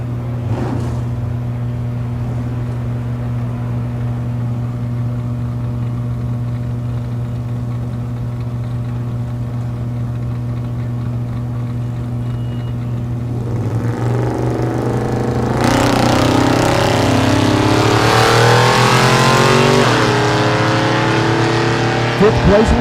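Fastback Ford Mustang at a drag strip: a steady engine drone at staging, then a loud full-throttle launch that roars and climbs through the pass, with an announcer talking over it.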